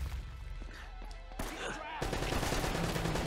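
In Uncharted: Drake's Fortune Remastered, an enemy fires a mounted machine gun in rapid, sustained bursts of dense gunfire close by, with a brief sharp crack partway through and heavier continuous firing toward the end.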